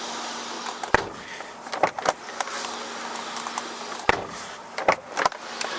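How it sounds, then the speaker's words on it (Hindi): Heavy doors on an MG Hector Plus SUV shut with several solid, close thuds spread across the clip, each a sharp low knock with faint mechanical clicks and a steady hum between. "चलिए अब इस गाड़ी का डोर थर्ड सुनाता हूँ मैं आपको एक बार"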